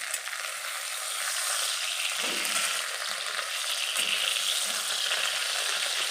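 Bhetki fish paturi wrapped in gourd leaves with mustard fries in a pan, a steady bright hiss broken by a brief shift as the parcel is turned, then a continuing close, even sizzle.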